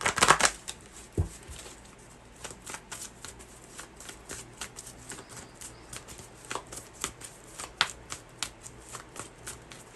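A deck of tarot cards being shuffled by hand, a steady run of close, crisp riffles and slaps continuing for several seconds with no talking.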